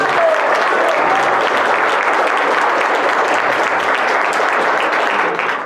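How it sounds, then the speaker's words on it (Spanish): A large audience applauds to welcome a guest at an academic political debate, a steady, dense wash of clapping that holds evenly for over five seconds before tapering at the end. "Recibamos también con un muy fuerte aplauso al doctor Antonio Vélez Torres"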